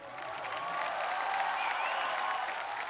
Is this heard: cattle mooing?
no